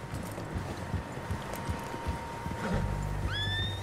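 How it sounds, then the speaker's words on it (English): Several horses in the video game Red Dead Redemption 2 clop along with a busy patter of hooves, and near the end one lets out a high, rising whinny. "Horses, quite a few of them."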